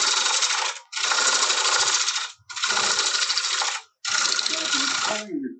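A lathe tool push-cutting toward the headstock across a turning wooden platter makes four loud, close, sustained hissing shear passes of about a second each, separated by short pauses.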